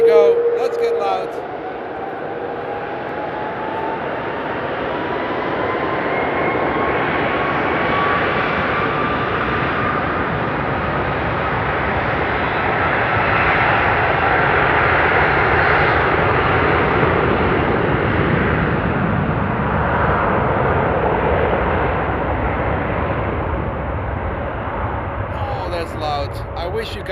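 Jet airliners taking off at night at Frankfurt Airport, a loud, sustained roar and deep rumble that swells and holds for the whole stretch, with a brief whine at the start.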